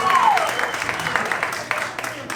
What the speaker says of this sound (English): One more applause for Rich here.